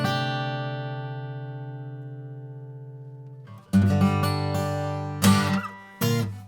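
Budget Harley Benton acoustic guitar rings out with one long decaying strummed chord, then several fresh, brighter strums follow in an uneven rhythm, close and clear with no talking.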